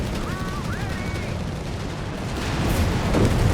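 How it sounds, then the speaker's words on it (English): Machine gun and artillery fire in Company of Heroes 3 battle: a dense, continuous roar of rattling gunfire and rumbling booms stays loud throughout and swells toward the end. "the machine guns are getting crushed beneath an avalanche of bullet fire there"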